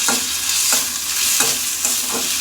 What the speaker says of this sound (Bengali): পেঁয়াজটা একটু বেশি ভেজে নিতে হয় এইভাবে